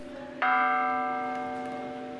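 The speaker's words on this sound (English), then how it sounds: "As it rocked back and forth, the bell would ring." A single bright strike from a rocking buoy bell on the Great Lakes rings out clearly and then sustains, its metallic tone slowly fading away.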